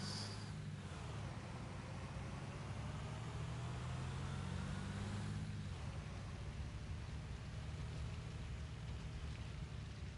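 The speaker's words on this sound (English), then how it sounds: "this rain is not making anything easier" Steady rain falling in a video game, a dense continuous wash of patter over a low engine-like rumble, with no voices.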